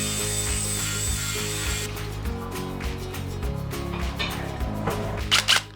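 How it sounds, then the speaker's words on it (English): A power grinder works metal flush on a DIY RV rear rack that sits on a bumper, giving a steady droning whine that turns rougher and gritty partway through, ending in a few louder bursts. No voices. "I'm gonna have to grind down flush because I wanna make sure that this rack sits as flat as"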